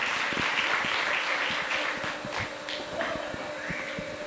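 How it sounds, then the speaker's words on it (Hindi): Audience clapping at a spiritual picnic celebration gathering, a moderate, steady patter of hands with a few sharper individual claps standing out, slightly distant and without talk over it. "ताली बजाइए"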